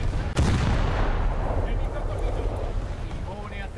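Ship guns fire in a naval battle video game, starting with a sharp loud blast followed by a long rolling roar and rumble, close and heavy under the game's sound.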